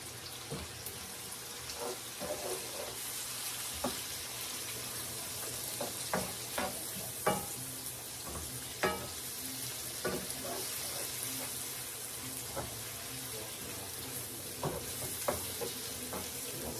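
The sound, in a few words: kale frying with bacon and salt in pan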